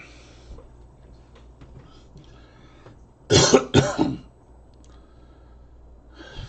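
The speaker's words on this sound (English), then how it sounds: "So I have the cough." Two quick, harsh coughs close together, loud and near, standing out against a quiet background with faint breathing and small movement sounds around them.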